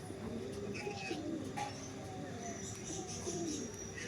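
Several pigeons sold as breeding pairs coo softly and steadily, with faint chirps and a continuous low background hum, close and fairly quiet.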